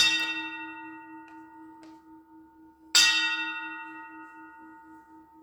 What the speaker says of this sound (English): ring the bell 2 times for me, Glenn.